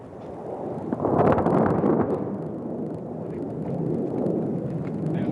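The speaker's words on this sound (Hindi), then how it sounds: "और यह एक जोरदार धमाका" Distant explosions of 1000-pound bombs dropped by a Sukhoi Su-30 MKI on a target range, a deep rolling roar that swells suddenly and then lingers as a broad rumble with wind noise.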